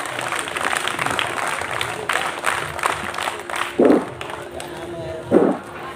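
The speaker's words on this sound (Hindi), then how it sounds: "फिर से क्लैपिंग, जोश दिखाएं।" Audience applause at a school Republic Day assembly, a steady wash of clapping from a crowd of students that swells in several bursts, with a voice addressing the gathering over it.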